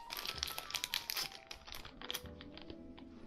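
A bike mount being unwrapped from its plastic packaging, with close crinkling and rustling bursts that taper to lighter handling noise, alone without speech.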